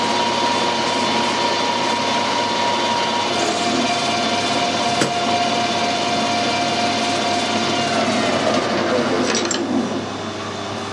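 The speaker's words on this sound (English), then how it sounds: "I'm going to centre drill it as well." A metal lathe spins a squared-up workpiece held in the chuck while a centre drill bores into its end, giving a steady mechanical hum with a sustained tonal whine and a brief sharp tick partway through.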